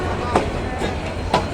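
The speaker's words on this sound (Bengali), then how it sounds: "তাই ট্রেনটা যাইতেছে, ভিডিও করলাম।" Passenger train rolling past on the rail line at Joydebpur, Bangladesh, a steady close rumble of wheels with brief louder clacks, voices faintly underneath.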